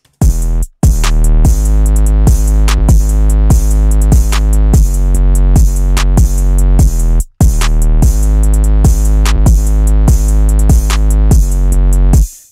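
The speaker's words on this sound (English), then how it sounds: "So altogether, the drums will sound like this." A drum beat from the Dynox Sauce Stash Pack plays loud and alone, with punchy kicks and snappy hits in a steady repeating pattern and brief drop-outs near the start and middle.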